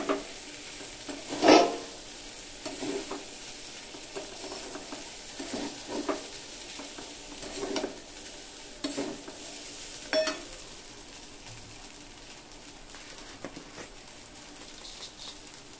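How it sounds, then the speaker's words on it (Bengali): Chopped boiled egg stirred into chira frying in a pan, with repeated spatula scrapes and light clatter over a soft background sizzle, rising and falling at an unhurried rhythm. "তো ডিমটা দেওয়ার পর আবার একটু নেড়ে চেড়ে দিতে হবে।"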